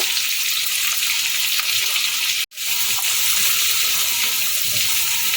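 Chopped onions hit hot oil in a pan after tempering spices for chicken tehari, giving a loud, continuous close-up sizzle that drops out for a brief instant midway.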